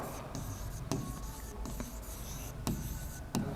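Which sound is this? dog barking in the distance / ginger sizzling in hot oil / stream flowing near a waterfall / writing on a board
writing on a board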